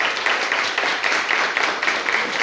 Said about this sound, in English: And one more round of applause for our panelists